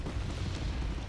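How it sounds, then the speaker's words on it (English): Deep rumbling boom of MSTA artillery fire in Wargame Red Dragon, a sustained low roar with a sharp crack at the very end. "that's not very accurate artillery fire."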